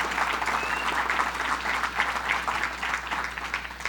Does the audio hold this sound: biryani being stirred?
no